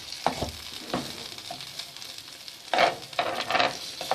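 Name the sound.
beef undercut steak sizzling while cooking in a pan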